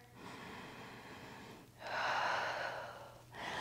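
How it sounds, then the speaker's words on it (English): Pilates instructor taking audible breaths during a stretch with a mini ball, two long airy breaths close to the microphone, the second one louder. "Breathe in here."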